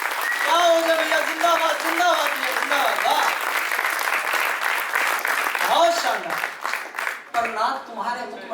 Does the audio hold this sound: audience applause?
yes